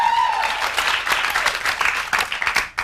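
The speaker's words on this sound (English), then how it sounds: "I don't want you for a second to think that applause is real" Applause from a radio studio audience, a dense wash of clapping that stays loud and steady for a few seconds before cutting off abruptly.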